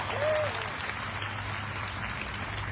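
At a large live rally in Kota, Rajasthan, a crowd applauds in a steady, dense wash of clapping that lasts the whole few seconds. A faint tonal note rises briefly near the start.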